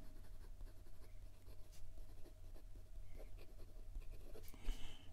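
A Ferris Wheel Press brush fountain pen writing in reverse on paper gives a soft, continuous scratching and brushing over a faint steady hum, quiet and close, with no talking.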